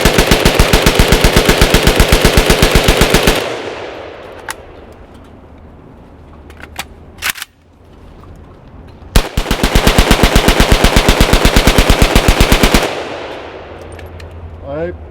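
A rifle fires two long sustained fully automatic bursts of rapid, evenly spaced shots, loud and close, separated by a quieter stretch with a few scattered clanks and handling noises.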